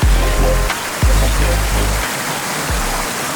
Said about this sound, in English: This is the second waterfall, Upper Proxy Falls.